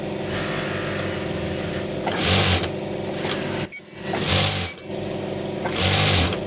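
Two-needle industrial sewing machine stitching non-woven fabric bags in a bag factory, its loud steady mechanical hum rising into three louder bursts of stitching with a brief dip between them, close by.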